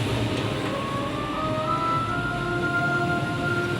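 Steady rumble and whine inside a moving train running from Liverpool to London, with a continuous low drone and faint rising tonal hums throughout, no talking.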